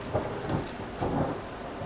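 Thunder rumbles through a rainstorm, two low booming swells about a second apart over steady rain hiss, moderately distant and fairly quiet.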